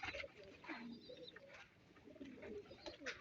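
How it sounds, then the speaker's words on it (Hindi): Pigeons kept at a village home coo in the early morning, soft low calls repeating in short bursts over faint rustling, fairly close and quiet. "आपको दिखाते हैं अपने कबूतर"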